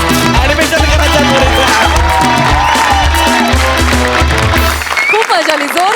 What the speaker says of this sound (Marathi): खूप मजा आली, जोरदार टाळ्या.